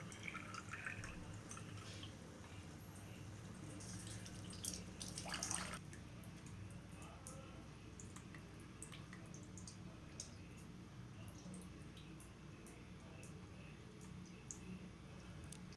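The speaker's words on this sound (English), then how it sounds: "Again collect water coming from UF membrane." Faint, steady trickling and dripping of water from the UF membrane of a Kent RO water purifier into a container, with a brief splashy burst partway through; quiet and close.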